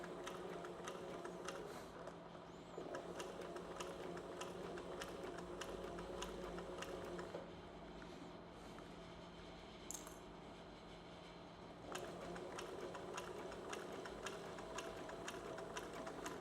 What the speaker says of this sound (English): A couple of back stitches to get us started. Now we'll work our way around.